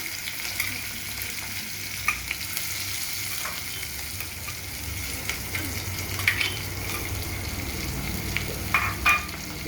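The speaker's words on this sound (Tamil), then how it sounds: "இப்போ இந்த வெங்காயம் வந்து பொண்ணுறதுக்கு வரும் வரையும் நாங்கள் வதக்கி எடுப்போம்" Sliced onions and green chillies sauté in hot oil in a pan for a Batticaloa-style crab curry, giving a steady, close sizzle with occasional stirring scrapes and small pops throughout.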